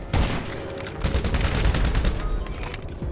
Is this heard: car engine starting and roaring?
no